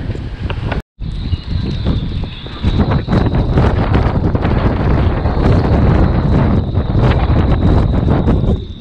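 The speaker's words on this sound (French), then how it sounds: "il y a du vent, c'est ouf" Loud, steady wind roars and buffets against the microphone while riding a gravel bike fitted with GP 5000 tyres, briefly cutting out near the start before gusting on continuously with a faint high whine.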